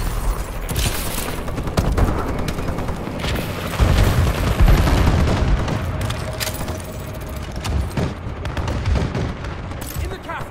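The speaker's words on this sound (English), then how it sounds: "Enemy bombing run overhead" Loud, dense gunfire and booming explosions from an enemy bombing run in a Call of Duty: Advanced Warfare match, continuous bursts with heavy low-end blasts around the middle, with some voice mixed into the chaos.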